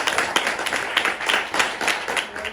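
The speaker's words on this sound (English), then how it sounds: "Big clap to everybody." An audience claps together at an Erasmus+ storytelling-in-museums project gathering in Artena, a brisk, fairly close run of overlapping hand claps lasting a couple of seconds.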